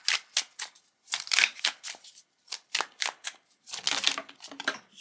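Tarot cards being shuffled by hand in repeated quick riffling bursts, crisp papery flutters separated by short pauses, close and clear with no voice.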